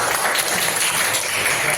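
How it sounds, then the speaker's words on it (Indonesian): Classroom applause from a group of students, steady dense clapping filling the room for a couple of seconds without a break. "Betul semua, tepuk tangan"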